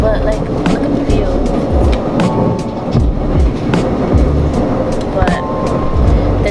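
Steady rolling rumble of a passenger train between Fort Lauderdale and West Palm Beach, Florida, heard from inside, with repeated clacks over track joints and people talking quietly beneath.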